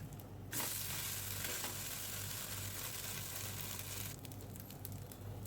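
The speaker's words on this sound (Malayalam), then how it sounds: "ഒരു സൈഡ് വെന്തതിന് ശേഷം തിരിച്ചിട്ട് മറു സൈഡ് കുറച്ചും കൂടെ മൂപ്പിച്ചെടുക്കുകയാണെങ്കിൽ നല്ല മുരുമുരാന്ന് നമുക്ക് തയ്യാറാക്കി എടുക്കാം" Coconut dosa batter frying on a hot pan, a continuous dense sizzle and hiss that fills the clip and eases slightly toward the end.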